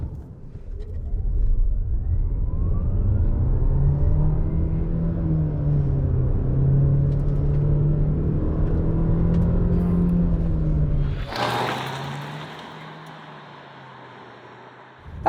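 A 2022 MG HS PHEV plug-in hybrid SUV accelerates hard from 0 to 100, its loud engine drone climbing steadily for about ten seconds before easing into a lower, quieter cruise with wind and road noise.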